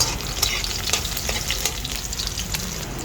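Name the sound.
garlic frying in cooking oil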